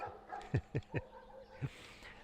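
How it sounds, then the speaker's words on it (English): Several dogs bark in the neighborhood during a bike ride: a quick run of three sharp, mid-distance barks, then a single bark a moment later, set against quiet outdoor background noise. "A lot of dogs around here, so just have to deal with that once they get started."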